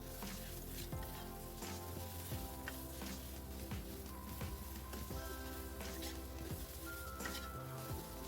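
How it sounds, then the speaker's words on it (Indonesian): Basil leaves stirred and wilting in a pan, giving a faint, continuous sizzle with scattered crackles and repeated soft knocks of a spatula on the pan, and no talking. "sekarang kita masukkan daun kemanginya, kita aduk-aduk. Kita masak sebentar sampai daun kemanginya ini layu ya"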